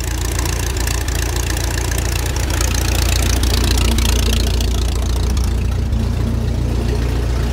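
An old, barely used tractor with rare original parts idles steadily and loudly close by, a continuous low rumble with a faint knocking texture throughout.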